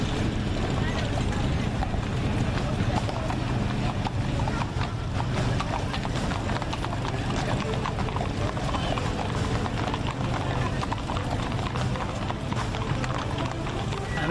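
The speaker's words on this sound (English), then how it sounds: "couple of mules coming up here driving" Mules walk along a charity trail ride near Myrtle Beach, their hooves clip-clopping in a steady, continuous rhythm close by, with voices in the background.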